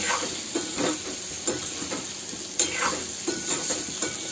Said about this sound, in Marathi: पूर्ण भेंडी कढईत टाकून दिली आहे। आता याला खालवरती करून घ्यायचं